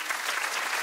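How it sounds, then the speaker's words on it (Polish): A brief burst of dense TV studio audience applause on a game show, loud and steady throughout. "Wielkie brawa dla Rafała"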